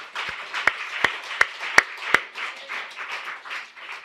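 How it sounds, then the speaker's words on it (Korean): Church congregation applauding during a Christmas sermon, with several sharp claps up front followed by a fainter, ragged spread of clapping that continues throughout. "감사의 박수를 한번 올려봅시다."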